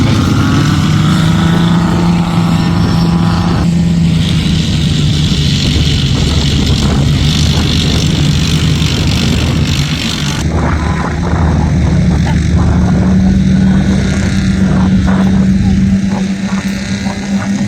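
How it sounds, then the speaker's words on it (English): An Austrian military personnel carrier drives past, its loud engine droning steadily for the whole stretch with a deep rumble and a shifting higher whine, and no voices are heard. "Personnel carrier going past the front at the moment. That's an Austrian vehicle."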